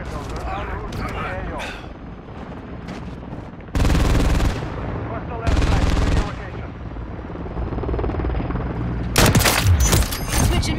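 Call of Duty gunfire with a helicopter drone behind it: loud bursts of automatic fire in two blocks, then a few sharp cracks near the end, under a player's talk.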